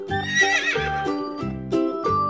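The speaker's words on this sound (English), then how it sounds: "Horse." A horse lets out a loud, close whinny with a shaky rise and fall, heard over a steady, rhythmic musical backing that repeats in short beats.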